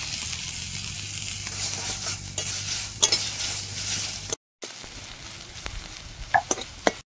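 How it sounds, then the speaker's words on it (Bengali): Onion and garlic fry in a pan, a soft steady sizzle with occasional metal clinks of stirring, briefly cut off, then resuming with a few sharper utensil taps at moderate level. "এবার পেঁয়াজ আর রসুনটা ভেজে নেব।"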